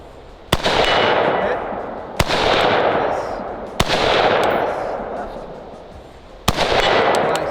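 A rifle fitted with a low-power variable optic fires at targets on a range: four loud, sharp shots spaced irregularly, each followed by a long, rushing noisy tail.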